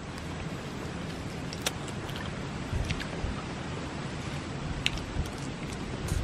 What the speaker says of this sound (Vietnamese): Nhưng mà trời mưa quá đi không được